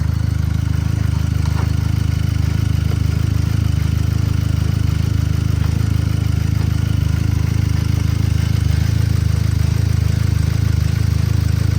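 A Volkswagen Golf Mk5 engine fitted with a sport air filter runs at a steady idle, with a loud, even low-pitched drone and no break for the full length.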